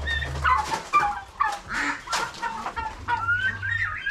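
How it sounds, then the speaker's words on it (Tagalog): Farm turkeys and ducks calling nearby, with intermittent gobbling and quacking squawks over low background noise and a few overlapping bird voices. "Ayan po ang bibi. Ayan po ang pabo."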